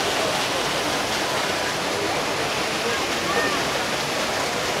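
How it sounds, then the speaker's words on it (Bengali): A fountain or waterfall in a crowded public area with a large LED display, giving a steady, loud broadband rush of falling water that continues without break. "এখান থেকে ঝর্ণাটা খুব সুন্দরভাবে দেখা যায়"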